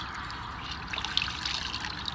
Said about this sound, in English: I'm getting my cloth wet